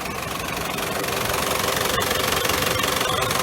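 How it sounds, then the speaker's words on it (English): A diesel engine, idling for nearly 40 minutes during an engine flush before an oil change, runs steadily close by, a constant clattering rumble with no change in pace and no voices. "She's been idling up for about nearly 40 minutes"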